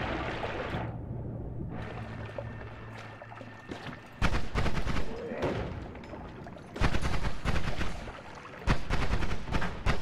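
Explosions go off in the pixel-physics video game Noita: booming blasts that recur at intervals under continuous crackling and fizzing effects and a dense game soundscape.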